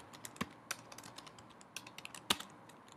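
Keys clatter on a computer keyboard while entering a command in the OS X Mountain Lion Terminal, giving a fairly close, irregular run of light clicks with a couple of sharper, louder strikes.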